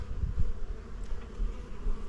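Honeybees from a strong colony just out of winter hum around open hive frames, a steady low buzz close by, with one bee briefly passing nearer.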